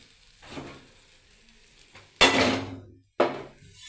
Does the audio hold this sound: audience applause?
no